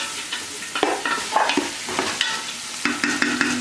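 Chopped onions sweat in a pan with only a gentle sizzle, while a spoon scrapes and taps against the pan in repeated stirring strokes. The sound is close and clear, with no voices.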